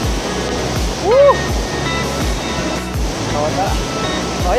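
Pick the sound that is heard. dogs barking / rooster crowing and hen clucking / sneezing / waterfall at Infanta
waterfall at Infanta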